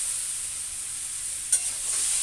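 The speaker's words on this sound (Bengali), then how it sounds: "এটা সুন্দর করে কষিয়ে নেব।" Boiled taro and potato stirred and fried in a pan, giving a steady bright sizzle with a brief louder scrape of the spoon near the end; no talking.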